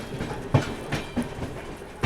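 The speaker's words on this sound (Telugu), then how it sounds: "ఈ సైడ్ ఏదో అలా పోటాపోటీకి వెళ్తున్నాం, కాసేపటి దాకా బయటకు వచ్చాము దిబ్రూగఢ్ రాజధాని తోటి." The 12313 Sealdah–New Delhi Rajdhani Express runs at speed alongside the Dibrugarh Rajdhani, with a steady rumble and rhythmic clickety-clack of wheels over rail joints.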